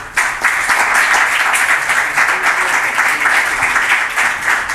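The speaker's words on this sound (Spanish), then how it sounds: "Le damos un fuerte aplauso." Steady, dense applause from a conference audience fills the room for several seconds, continuous and fairly loud with no talk over it.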